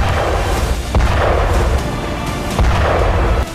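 Artillery fire on a war front during a Russian attack in Ukraine: heavy booms land about once a second over a dense, continuous roar of battle, loud and without voices.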